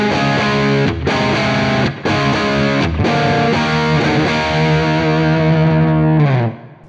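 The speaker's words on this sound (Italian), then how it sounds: "se vado più su con la distorsione, perfetto per gli assoli" Electric guitar played through a small mini amplifier with the gain and distortion turned up for a lead tone, sustained chords ringing loudly with brief pauses between them, then a long held chord that cuts off.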